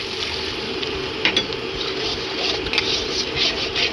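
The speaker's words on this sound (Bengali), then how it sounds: "দিয়ে এটাকে ভালো করে কষাতে হবে" Pomfret fish masala with green chilies sautés in a pan with a constant close sizzle, while a spoon scrapes and clinks against the pan every so often.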